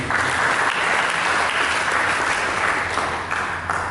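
A congregation applauds in an Indonesian church during a sermon. Many hands clap in a dense, sustained roar that is fairly loud and even, then eases slightly near the end.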